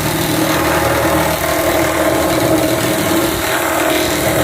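A cutter, likely a plasma cutter, slices a corrugated roofing sheet to length in a workshop, giving a steady, loud, continuous harsh buzz with a droning hum underneath, unbroken for the whole stretch.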